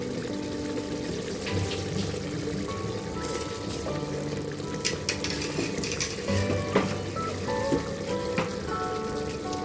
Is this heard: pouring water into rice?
yes